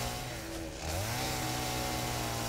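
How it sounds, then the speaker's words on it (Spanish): A chainsaw in the video game Satisfactory revs loudly while cutting trees, a steady buzzing engine drone that rises in pitch and holds, heard alone without speech. "Yo me vuelvo loco con la motosierra."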